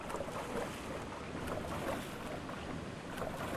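Water shifting and washing in the BackRooms X game, a quiet, continuous rushing swash with faint surges and no voices.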